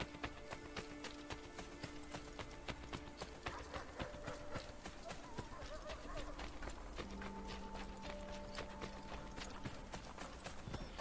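Horse hooves clip-clop steadily in Assassin's Creed Brotherhood, a dense run of sharp close taps under game music and ambience, with a voice now and then.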